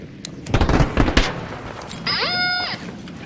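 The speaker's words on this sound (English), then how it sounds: "Oh, whoops, I threw the wrong grenade." Grenade blasts in the shooter game ARC Raiders, a cluster of sharp booming bursts close together followed by a higher whining electronic tone, loud and near.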